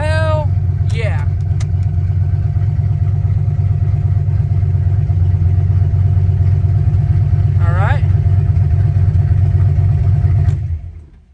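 A car engine holds at 3,700 RPM on two-step launch control, a loud, steady droning rev that sustains for about ten seconds before cutting off, with a couple of brief vocal exclamations over it.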